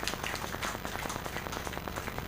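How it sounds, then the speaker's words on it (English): Dense, continuous clapping from a crowd, steady and fairly distant, with no voices. "Please, a round of applause for her."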